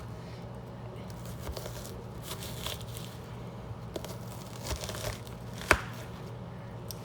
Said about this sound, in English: after I cut those slits, I just chop down like that